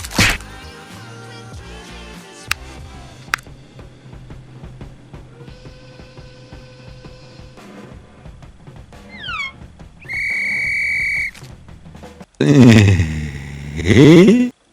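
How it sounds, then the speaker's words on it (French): Several sharp, shrill whistle blasts from a guard, including a long steady tone and warbling trills, loud and close, following quieter mixed background noise. "un bon nouveau gardien avec un sifflet super agaçant"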